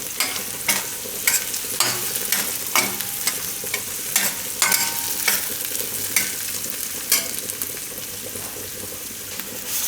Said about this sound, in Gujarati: અને પકાવી લઈએ થોડીક વાર ડુંગળીને.